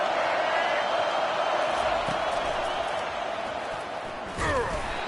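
A football stadium crowd at a Michigan State versus LSU game roars in a loud, steady wash of cheering with a brief swell near the end, and a commentator's voice runs underneath.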